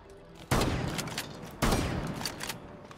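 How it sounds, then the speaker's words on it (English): Two loud, close shotgun blasts fired from the hip in Rainbow Six Siege, about a second apart, each with a sharp crack and a ringing tail, followed by a couple of softer trailing pops. "when I'm shooting, I like to stay hip fire"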